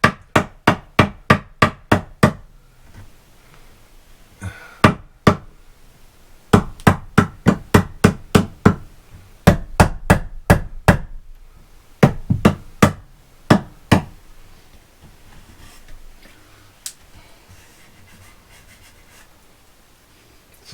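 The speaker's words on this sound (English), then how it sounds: "tap this side into place" A hammer taps shower niche framing into place in quick bursts of sharp, close blows, several rapid runs separated by short pauses, then fewer scattered taps and quiet handling noise toward the end.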